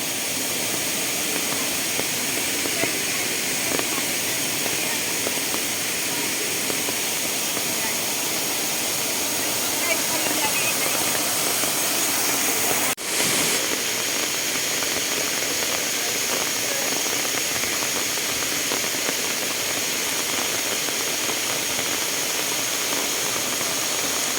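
Heavy rain falling over Aliw Falls, a waterfall inside an ecofarm resort in Luisiana, Laguna, makes a steady, dense roar of rushing water that holds an even level throughout, with a brief dip partway through.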